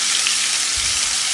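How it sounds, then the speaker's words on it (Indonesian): Ground onions and shallots frying in a little oil in a wok, a loud, dense, steady sizzle close up, with a soft low stir or bump near the end. "Kemudian siapkan wajan, tambahkan sedikit aja minyaknya untuk gongsong bawang brambangnya."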